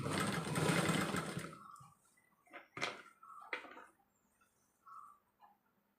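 Sewing machine stitching along a fabric slit that has been folded to half-inch width, with a dense, loud whirring run of stitching that stops, followed by a few short clicks and small mechanical taps.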